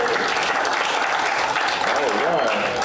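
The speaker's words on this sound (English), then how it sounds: "let's give this fine gentleman here a big round of applause" A magic show audience gives sustained, full applause for a gentleman volunteer, the clapping loud and continuous, with a voice speaking over it near the end.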